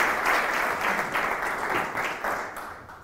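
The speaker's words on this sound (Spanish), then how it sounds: "Un aplauso para ellos." An audience at WordCamp Málaga, a WordPress conference, applauds speakers with brisk clapping that swells in uneven waves and then begins to thin out toward the end.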